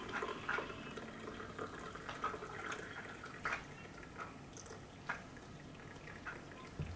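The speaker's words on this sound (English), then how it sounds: "I'm pouring myself a cup." Coffee pours from a double-walled French press with a pour spout into a cup, a soft, faint trickle with scattered light drips.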